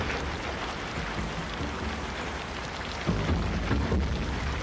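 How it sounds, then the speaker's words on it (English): Rain falls outside at night as a steady, dense hiss of drops that grows slightly louder partway through, with no voices. "Well, me and Pearl, we were looking out at the rain"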